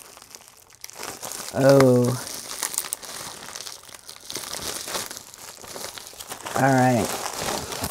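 A padded envelope holding a diamond painting kit crinkles and tears open close by, its rustling continuous across the clip, while a voice speaks a few brief words over it.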